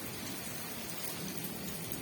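Rain pours down steadily outdoors after a sudden change of weather, a dense, even hiss of drops that fills the short stretch with no talking.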